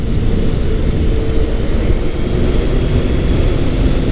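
Kawasaki Concours 1400 touring motorcycle riding through twisty roads, a steady loud broadband roar of engine and wind rushing past, continuous and unbroken throughout.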